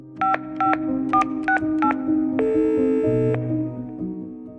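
A telephone number is dialed as a rapid series of six or seven distinct touch-tone beeps, each short and evenly paced, followed by a longer sustained tone, all heard clearly with no talking.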